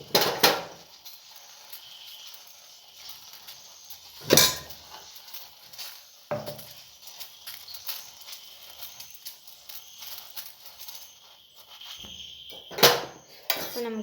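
A kadai placed on a stove for cooking kadala curry, a few sharp metallic clanks and knocks scattered among long near-silent gaps, fairly faint and with no talking.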